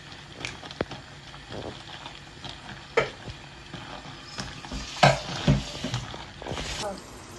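Curry leaves hitting hot oil for a crab curry, a soft crackle and sizzle with a few sharp spits and spoon knocks in a moderately quiet kitchen.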